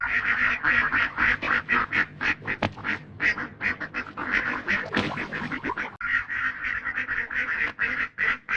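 Ducks at a water basin on a farm quack nearby in a rapid, continuous chatter of raspy calls that overlap and pause only briefly.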